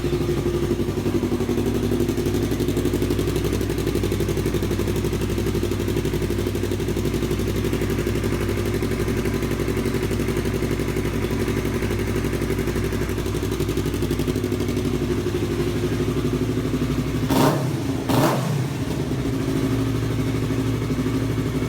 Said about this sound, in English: I'll start it up for you guys.